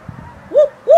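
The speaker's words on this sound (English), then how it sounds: "Got to be owls around here somewhere." A snowy owl gives two short, tonal hoots in quick succession, loud and close, preceded by a quiet rustle.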